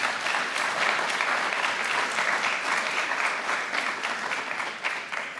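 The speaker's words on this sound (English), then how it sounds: "Let's give a final round of applause to all competitors for all the hard work you have put into these competitions." An audience at an FFA annual awards ceremony gives speaking contest competitors a sustained round of applause, a dense, even clapping that holds steady throughout.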